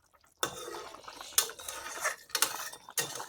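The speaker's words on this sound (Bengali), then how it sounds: "দেখুন আমি আরেকটু নেড়ে চেড়ে দিচ্ছি।" A spoon stirs boiled potatoes in a metal cooking pan, giving four or five short bursts of clattering and scraping separated by brief quiet gaps.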